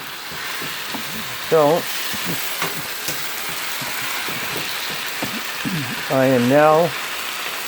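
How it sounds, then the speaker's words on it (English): Dollar-store tomatoes frying in a pan with a steady, fairly quiet sizzle throughout, while someone talks over it in short bursts. "cooking the tomatoes"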